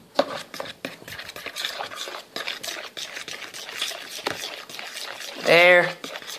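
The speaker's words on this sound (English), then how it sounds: "Let's go grab that fork we were using earlier to melt it and mix it together." A fork stirs melted marshmallow cream for graham cracker salad, making a run of soft, close scraping and clinking strokes with a brief louder burst near the end.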